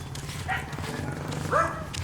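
Guard dogs in a residential neighborhood in Valencia, Negros Oriental, Philippines, barking in a few scattered yips from a distance over a steady low engine hum.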